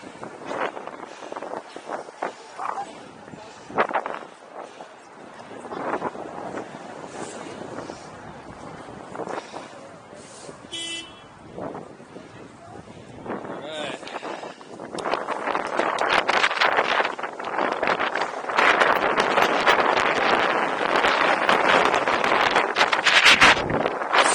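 Wind buffets the microphone during a bike ride in Central Park, New York, in rough, rumbling gusts, growing stronger and more constant in the second half, with no one speaking.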